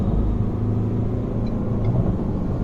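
A Ford Endeavour SUV accelerating hard, a loud, steady low engine and road rumble from inside the cabin with no talk.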